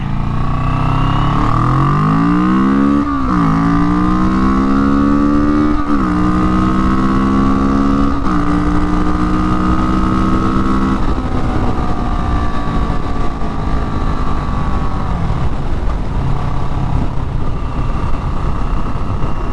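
A Kawasaki Vulcan Classic 900 V-twin motorcycle engine revs loudly and continuously, its pitch climbing and dropping through several gear changes as the bike accelerates, with no talk over it.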